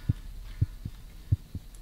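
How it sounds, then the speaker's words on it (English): Low, muffled heartbeat thumps in the horror video game The Cat Lady, five beats in an uneven double rhythm over a faint steady hum, fairly quiet with no voices. "Oh my god, I can hear heartbeats."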